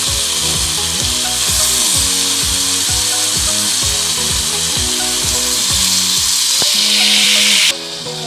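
Cabbage and soaked moong dal are frying in hot oil in a pan, giving a loud, continuous sizzle with repeated scraping and stirring knocks, ending in a sudden drop.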